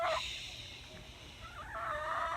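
Backyard hens cluck and call nearby, drawn-out warbling vocalizations over a quiet background hum, no talking.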